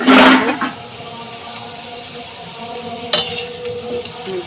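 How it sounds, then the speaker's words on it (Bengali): Potatoes fry and are stirred in a pan, opening with a short loud sizzling burst that settles into a quieter, steady frying hiss, with a single sharp utensil clink partway through. "দেখো কত সুন্দর লাল লাল করে ভাজি করছি আলুটা"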